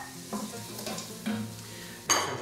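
Carrot and onion sauté in a Tesla EliteCook K70 electric multi-cooker for minestrone, a gentle sizzle punctuated by several stirring scrapes and a sharper spoon clatter near the end.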